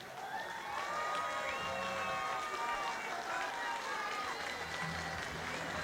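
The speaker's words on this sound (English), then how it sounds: "a big round of applause for both of our finalists" A darts crowd at the England national singles finals applauds and cheers its two finalists, a sustained roar of clapping and shouting voices with a host talking over the top.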